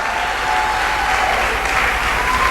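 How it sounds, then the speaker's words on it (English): An audience at a medical research institute's annual meeting applauds a speaker coming up, a dense, even wash of clapping from many hands filling the room, loud and continuous with no voices over it. "let us clap for her as she comes."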